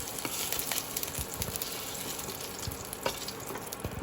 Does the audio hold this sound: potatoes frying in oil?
yes